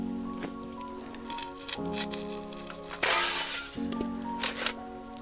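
Glass shatters with a bright crash from a glass cutter in a Christmas Stories: Alice's Adventures video game, breaking over steady background music partway through.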